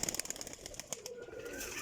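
Pigeons in a breeder loft, with a quick run of wing flaps and clattering movement up close, then softer shuffling and faint cooing in a quiet room.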